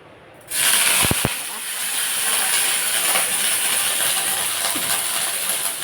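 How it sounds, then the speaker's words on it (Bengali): Peeled vegetable, soaked in salt and turmeric water, frying in mustard oil: a steady, close hiss of sizzling begins abruptly and holds for the rest of the clip, with a couple of small clicks near its start. "তেলে ভেজে নেব।"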